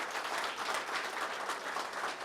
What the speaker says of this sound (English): by all means, applaud, yes.